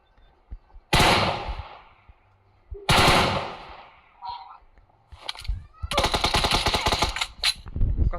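Rapid machine-gun fire in a video game: three loud bursts close by, the last one longest, with quieter game sounds between bursts and a player speaking briefly.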